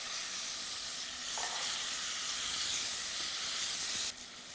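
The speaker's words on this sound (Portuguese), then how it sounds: "manteiga aqui já começando a ter essa coloração mais dourada, e aí então eu vou fritar, refogar o meu damasco" Apricots fry in butter that has already turned golden brown, giving a steady close sizzle and hiss that swells slightly partway through and drops at the end.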